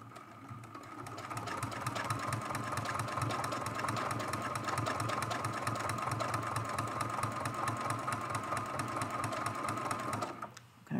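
A sewing machine quilts a hummingbird mosaic art quilt, running in a fast, steady mechanical chatter for about ten seconds before slowing and stopping.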